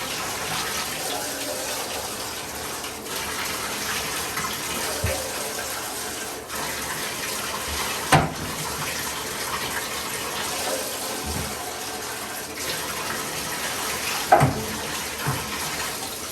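Steady running water from a tap fills a sink while six-week-old American Bully puppies are bathed, a continuous wash of splashing with occasional louder knocks and faint background voices.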